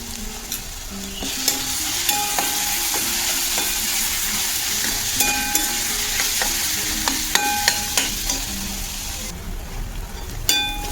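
Onion frying in a pan with salt and ginger-garlic paste for misal, a steady close sizzle broken by repeated sharp clicks of a spoon stirring against the pan, with no talk.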